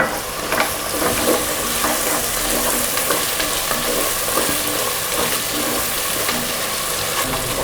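Onions, ginger-garlic paste and green chillies fry in hot oil for vegetable biryani, giving a steady, loud, close sizzle that crackles without a break and with no voices.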